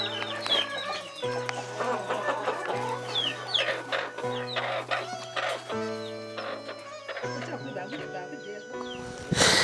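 Chickens clucking close by in a busy farmyard, repeated short calls over a steady low hum, with other fowl sounds and a possible crow mixed in.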